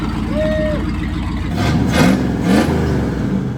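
A 1979 Ford Bronco engine runs steadily after being started with the key, a loud, close idle rumble with a couple of throttle swells toward the end, while a voice speaks over it.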